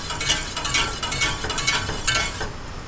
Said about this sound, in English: Now we can start stirring it.